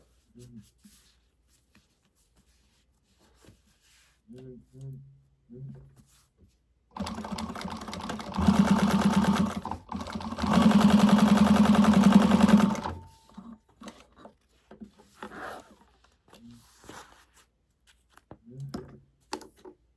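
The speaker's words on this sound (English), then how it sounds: "and I'm sewing my base to the side gussets again." A sewing machine top stitches a bag, running in two loud, steady bursts of rapid stitching with a short pause between, set apart by quieter stretches where someone talks.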